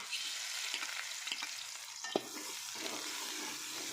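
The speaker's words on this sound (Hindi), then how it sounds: "प्याज को हल्का सुनहरी होने तक फ्राई करेंगे।" A steady, quiet sizzle of onions frying in hot oil with occasional soft clicks and scrapes of stirring.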